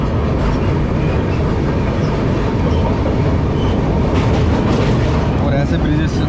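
An express train rolls across a railway bridge over the Krishna river, a constant loud rumble of wheels and wagons filling the whole stretch with faint clatter on top.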